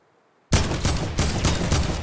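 Rapid gunfire in a Fortnite-style battle game, a sudden loud burst of repeated shots in quick succession, close and continuous for about a second and a half.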